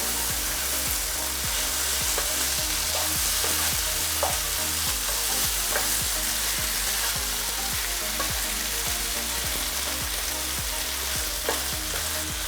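Spicy Kerala-style cold-water lobster tails fry and sizzle in a pan while being tossed, a dense, steady crackle close up with faint rhythmic scraping throughout.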